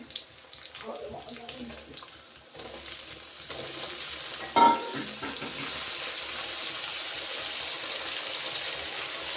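Potatoes tipped into a pan of frying onions set off a loud sizzle, with a sharp splash of hissing midway that settles into a steady, bright frying crackle, and some stirring and faint clatter before it.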